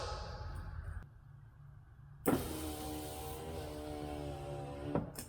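A Lexus IS300 power window motor hums steadily as the glass moves, after a brief quieter pause, then starts again with a bump and runs evenly at close range until a clunk near the end.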